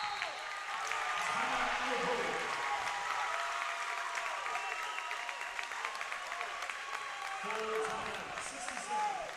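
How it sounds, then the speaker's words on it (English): A basketball crowd roars and applauds in a gym after a steal, with sustained loud clapping and cheering from many people. "Listen to the roar of the crowd."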